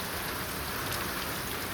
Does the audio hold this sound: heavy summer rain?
yes